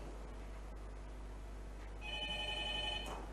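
A telephone rings for a viewer calling in to a televised Qur'an recitation quiz, the electronic ring starting partway through over a steady low background hum, with no speech.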